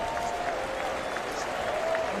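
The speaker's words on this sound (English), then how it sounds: "A nice gesture from the fans here in Morgantown, cheering for the veteran quarterback as he gets up" West Virginia fans in a Morgantown college football stadium applaud and cheer as an injured veteran quarterback gets up, a steady, dense wash of clapping and crowd noise that holds throughout.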